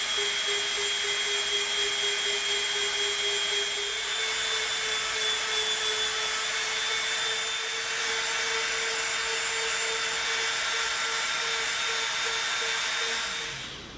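A Dremel rotary tool smoothing an EVA foam bow boomerang holds a steady, high-pitched whine with a continuous grinding hiss for the whole stretch, close and unbroken.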